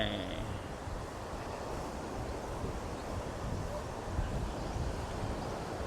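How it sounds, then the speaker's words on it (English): Strong post-typhoon wind buffets the microphone on a Boracay beach, a dense, rumbling gust noise mixed with distant surf, with a voice faintly under it. "It's really windy out here."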